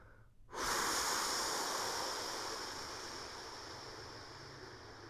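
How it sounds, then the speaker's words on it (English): A person exhales in one long, forceful rushing breath during a floor exercise session, close to the microphone. The breath starts abruptly and slowly fades over several seconds. "Let's let all our air out."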